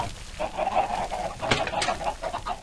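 Chickens in the Minecraft video game give short, repeated clucks at moderate volume, with a couple of sharper clucks near the middle and no talking.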